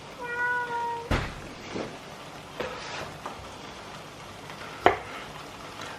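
A house cat meows several times in a kitchen while tomatoes are chopped for a burrito, with knife knocks on a board between the cries and a sharp squeal near the end.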